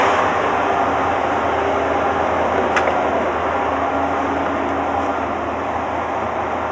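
Hot air blowing from the heater in a 1985 Ford F250, a steady loud broadband rush of fan noise that holds constant throughout, with no talking.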